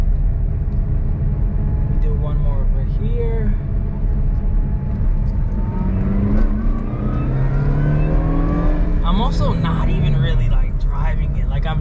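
Subaru Vivio RX-R accelerating hard, its small engine revving up in rising sweeps and dropping at each gear shift, loud and close with a steady rumble, while someone talks over it.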